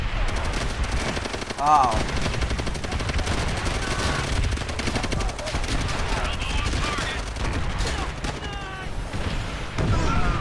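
Machine gun fire in the Call of Duty: World at War campaign, a dense continuous clatter of automatic weapons and battle noise running throughout, with a brief exclamation from a player over it.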